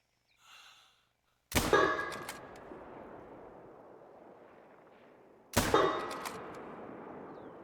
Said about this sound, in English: Try to shoot that target. Still using the rifle